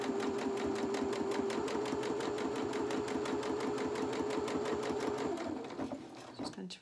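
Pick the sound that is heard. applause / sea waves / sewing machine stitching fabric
sewing machine stitching fabric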